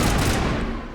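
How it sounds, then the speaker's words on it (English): A dense, loud burst of rapid gunfire from a weapon in the video game Mass Effect, continuous and booming for about a second before it tapers slightly. "So if you keep shooting, eventually your gun will overheat and you need to take a little while to let it recharge."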